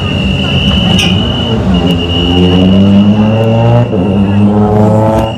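A Toyota Gazoo Racing rally car approaches on the 2020 WRC Marmaris stage, its engine a loud, continuous roar that rises in pitch as it nears, with a steady high whine and no talking.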